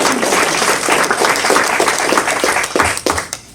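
Audience applause at a 25th anniversary breakfast celebration, a dense, steady round of clapping that fills the room, holding for a few seconds before tapering off near the end.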